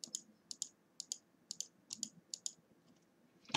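Sharp clicks from a Corsair computer mouse, a dozen or so in small pairs and bursts at a steady, unhurried pace, close and crisp against a quiet background with no talk.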